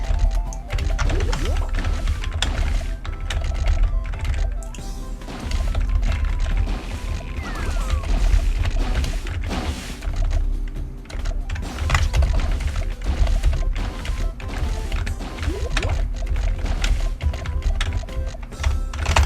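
Typing on a new computer keyboard during a game produces dense, continuous clacking of keys, close and loud, with game sounds mixed in underneath.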